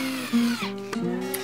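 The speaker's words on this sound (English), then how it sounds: "You can use a Dremel tool to cut out the circle" A Dremel rotary tool cuts a circle out of a box, giving a steady, close, high-pitched motor whine with a bright buzzing edge that dips and recovers in pitch as the bit bites into the material.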